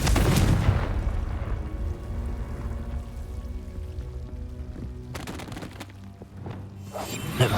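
A Confringo blast spell in Hogwarts Legacy lands as a loud booming burst, followed by a rumbling decay and whooshing effects, with another sharp impact near the end.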